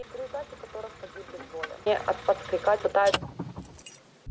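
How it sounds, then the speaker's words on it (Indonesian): A set of car keys jangles as it is picked up, giving a close run of bright metallic clinks that grows busier midway before a brief quiet. "Lucy melihat sebuah mobil dan langsung mengambil kunci mobil tersebut"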